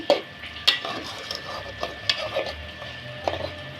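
Goat head meat stir-fried in a pan, with soft sizzling and a few sharp scrapes and clinks of a utensil against the pan at irregular intervals, close and fairly quiet.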